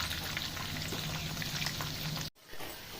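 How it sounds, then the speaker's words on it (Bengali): Chicken pieces for chili chicken sizzle steadily in hot oil, a dense close crackle that cuts off abruptly near the end before the quieter frying resumes, with no talking. "তো সেইভাবেই আমি ফ্রাই করে নিচ্ছি।"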